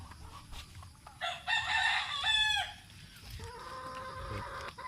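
White Kelso chickens at a morning feeding: a rooster's loud, drawn-out crow rises over a low background din, then softer clucking and calls carry on steadily.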